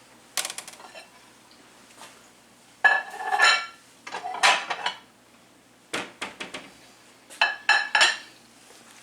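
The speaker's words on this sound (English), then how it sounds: "Put your lid back on it, take it off the burner." A lid clatters back onto an omelette pan as it comes off a stovetop burner, giving several sharp metallic clanks and rattles in separate clusters, close and fairly loud, with quiet gaps between.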